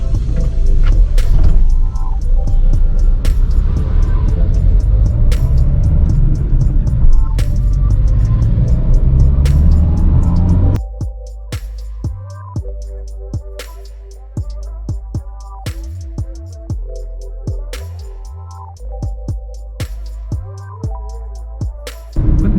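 A Renault Duster SUV driving over rough terrain gives a steady, loud engine and road rumble for about half the time. It then gives way to a quieter stretch of tonal sounds with repeated sharp knocks.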